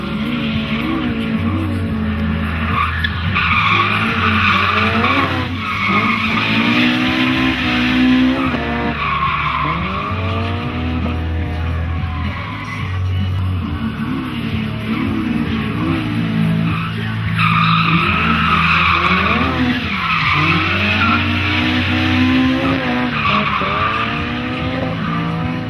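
A drift car sweeping through corners on a track during a competition in Osijek, its engine revving up and down with long tire squeals and skids, loud and continuous.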